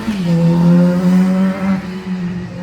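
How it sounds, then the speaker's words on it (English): A nearby vehicle drives past in the background, its engine tone sliding downward as it goes by and then fading into a steady low traffic hum. "You have to bear with us. We have traffic."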